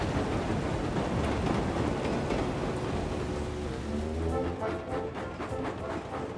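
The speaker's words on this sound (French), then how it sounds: "Cela fait plusieurs jours qu'il pleut sans discontinuer sur Chicalor." Steady rain falling in an animated town, a dense, even hiss of drops throughout with faint rumbling underneath, no talk.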